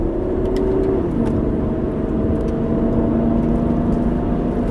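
A car rolling along Lake Hughes Road, its engine and tire noise a steady loud whir with a shifting tone as it coasts, heard close from inside with no talking.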